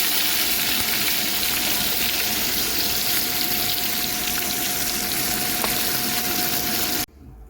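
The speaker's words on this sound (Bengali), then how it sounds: "লাল লাল করে সব মাছগুলি ভেজে নেবো" Fish fries in hot oil in a kadai with a dense, steady sizzle and a faint constant hum behind it, cutting off abruptly just before the end.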